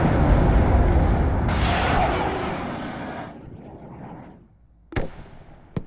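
Artillery fire in the WARNO war game, heard as a loud, sustained rumble of distant shelling that slowly fades away, followed by two sharp separate blasts near the end.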